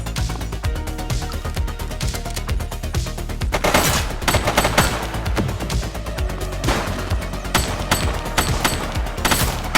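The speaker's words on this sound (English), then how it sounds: "Shots fired!" Gunfire in The Precinct, rapid automatic bursts and heavy shots crackling loudly and almost continuously, dense and close with several sharp louder volleys.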